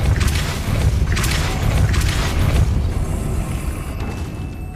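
Depulso spell cast in Hogwarts Legacy: a loud, dense magical blast with a booming low rumble and a crackling burst that pulses and stays steady for several seconds.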